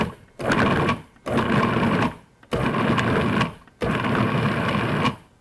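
A food processor pulses chilled butter into flour for a pie crust in four loud, even bursts of motor whir and chopping, each lasting about a second with brief silences between them.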